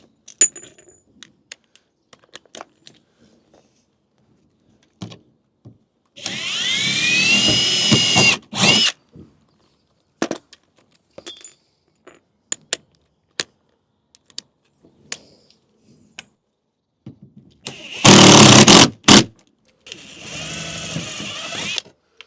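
A power drill drives screws while an aero kit is fitted to a VW Scirocco R, in two separate whirring bursts amid scattered clicks and taps of parts and tools in a quiet workshop.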